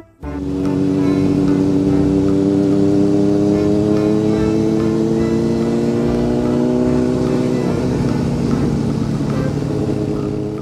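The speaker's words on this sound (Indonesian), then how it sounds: "Sepeda motor." A toy motorcycle engine drones loud and steady for about ten seconds, its pitch slowly climbing and then settling, with no talking.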